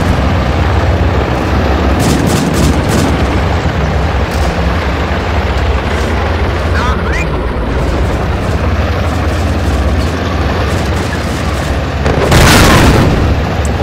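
Rocket explosions in the Steel Fury tank game, heard from inside a King Tiger amid a steady engine rumble, with several dull booms scattered through and a loud, broad blast near the end.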